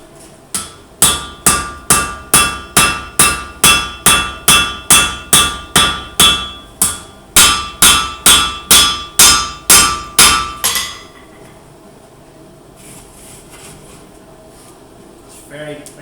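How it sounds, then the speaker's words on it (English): Hammer blows forging the tang of a blade on an anvil, struck in a fast steady rhythm of about twenty ringing metallic hits over ten seconds, loud and close, then stopping, leaving quiet room tone. "you may want to move the hammer fully onto the anvil"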